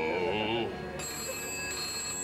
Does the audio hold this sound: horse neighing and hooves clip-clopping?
no